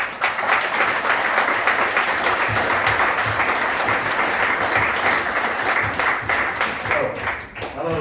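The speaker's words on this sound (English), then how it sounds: "Can we have a round of applause for Liam?" A wedding crowd applauding a guest named Liam, loud, sustained clapping from many hands that fades slightly near the end.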